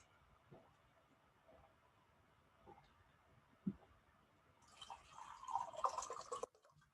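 Water pours briefly into a cup in a quiet room, a soft splashing gurgle rising near the end after a few faint drips and small knocks.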